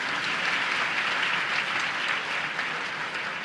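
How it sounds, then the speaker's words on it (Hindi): A large audience breaks into dense, continuous applause at the Utsav 2015 cultural programme at Dev Sanskriti Vishwavidyalaya, Haridwar, many hands clapping steadily without pause, full and loud throughout. "तालियां हो जाए इस बात के लिए।"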